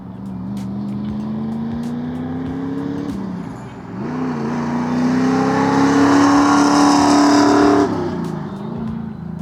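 A 1968 Chevrolet Camaro engine revs loudly while driving, its pitch climbing and dipping through several throttle swells and a gear change, close and steady with no talk over it.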